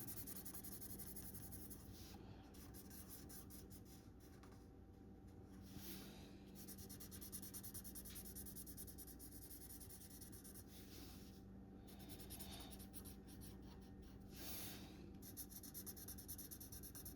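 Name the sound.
marker drawing on paper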